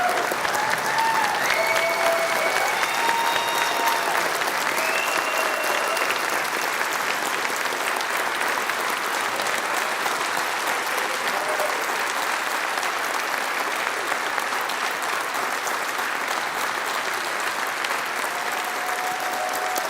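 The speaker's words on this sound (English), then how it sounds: "One of those rare moments where it is okay to clap and applaud" Sustained applause from an audience at a Westborough, Massachusetts annual town meeting, a dense, steady wash of clapping filling the hall for the whole stretch without pause.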